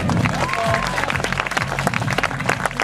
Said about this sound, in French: Super, on peut l'applaudir.